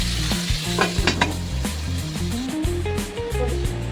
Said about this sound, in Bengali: তো চলো পুরো মাছগুলো ভেজে নিই তারপরে আসছি